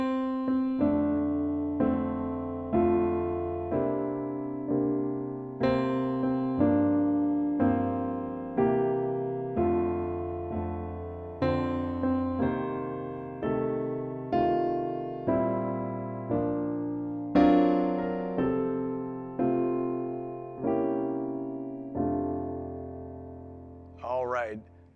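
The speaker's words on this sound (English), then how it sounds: "we're going to show you how to play Happy Birthday" Solo piano plays a rich, jazzy gospel arrangement of Happy Birthday, with full sustained chords and a steady rhythm, close and clear, with no talking.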